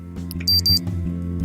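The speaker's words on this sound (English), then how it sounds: "My watch beeps, indicating it's now 2000." A wristwatch in a Doki Doki Literature Club mod gives a quick cluster of bright electronic beeps over steady background music, brief and fairly loud.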